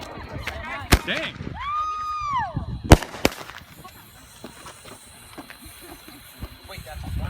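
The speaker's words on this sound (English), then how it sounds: "Wait, that's one firework?" Fourth of July fireworks fire off in sharp cracks and whistling rising streaks, with a loud bang near the start and another around three seconds, followed by crackling and scattered pops, while people talk and shout nearby.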